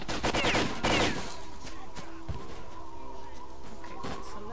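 Gunfire in the video game Lost Alpha: a rapid burst of overlapping shots opens loudly, then scattered single reports follow more sparsely over a low, droning background.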